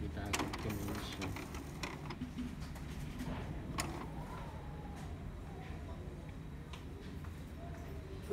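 A quiet mechanical whirring with irregular clicks and ticks from an Epson M200 inkjet printer running a head cleaning, working steadily nearby, with a faint rising tone in the middle.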